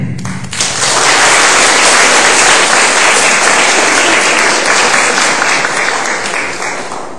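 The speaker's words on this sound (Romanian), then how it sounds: "Maestre, aplauze!" A dense, sustained wave of audience applause fills a hall at a Romanian school ceremony, rising quickly and holding loud before slowly tapering off, with no talking over it.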